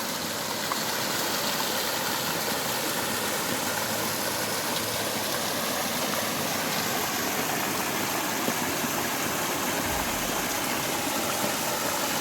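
Cachoeira da Sentinela waterfall in Biribiri park, a constant loud broadband rush of falling water that fills the whole scene without pause.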